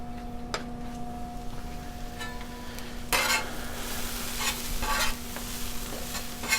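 Queso being stirred on a Blackstone griddle, with a steady low sizzle running throughout and louder scraping stir strokes near three and five seconds, close and alone without talk.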